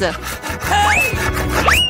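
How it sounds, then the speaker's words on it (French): A saw rasps back and forth through a Snickers candy bar in a few short, gritty strokes, loud and close, with voices talking over the cutting. "Je pense que nous allons avoir besoin d'une scie."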